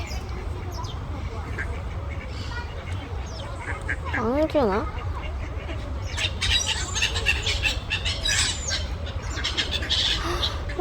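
Seagulls and other birds call repeatedly along the canal in Aveiro, Portugal, with squawks and a wavering cry rising above a busy outdoor background while people talk nearby.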